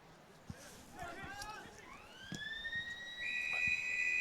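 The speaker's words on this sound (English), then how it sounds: "So siren sounds for quarter time here." A loud quarter-time siren at an Australian football match winds up in pitch and then holds a steady, piercing tone, with faint background noise and a few knocks before it.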